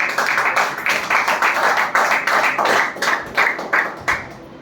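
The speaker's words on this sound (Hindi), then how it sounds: "तो मैं चाहता हूँ आप अपने लिए जोरदार ताली," An audience claps loudly and together at a company director's experience-sharing event, a steady, rhythmic run of close, sharp claps that repeats for several seconds before thinning out.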